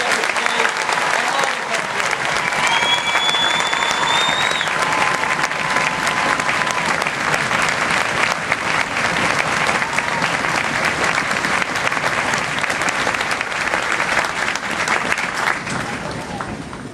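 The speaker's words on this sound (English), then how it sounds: "Families, please join me in a round of applause" Families at an army basic training graduation ceremony give drill sergeants a sustained round of applause, a dense crowd of clapping that holds steady for the whole stretch, with a few voices and whistles mixed in.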